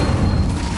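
An Incendio fire spell cast in Hogwarts Legacy, a brief, loud, deep whooshing boom that bursts and fills the moment without any speech.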